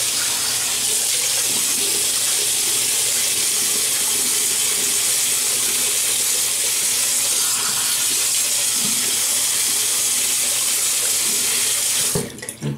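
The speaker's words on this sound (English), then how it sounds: "let me wet the face" Running tap water pours steadily and loudly into a sink as a face is wetted before a shave, a continuous close hiss that lasts about twelve seconds and then stops abruptly.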